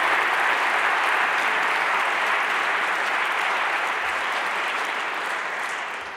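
Sustained audience applause at the CNRS Gold Medal 2021 award ceremony, dense and steady throughout and tapering slightly at the end, with no voices over it.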